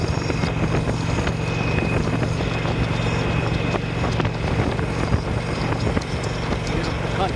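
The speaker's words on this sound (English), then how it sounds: "This is one of those rare times when the wind is at my back." Steady wind rush buffeting the microphone while riding on a trip through the Black Hills, a constant broadband roar with a low engine-like hum beneath, continuous and close.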